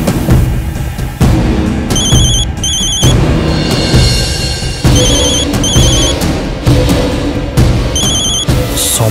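A telephone rings in repeated short electronic bursts, each pair separated by brief pauses, over a busy backdrop of thuds and music-like noise.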